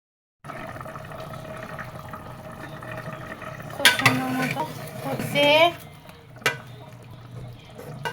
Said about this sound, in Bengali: নিয়ে মাংসটা জল দিয়ে রাইস কুকারের মধ্যে বসায় দিলাম